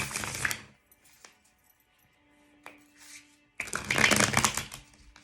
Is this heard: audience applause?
no